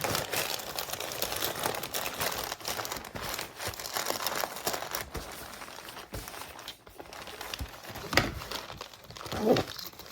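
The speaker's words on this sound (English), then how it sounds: "I'm gonna put the packing paper back in there." Packing paper crinkles and rustles in bursts as it is stuffed back into a makeup bag, close and fairly loud, with a few sharper crackles near the end.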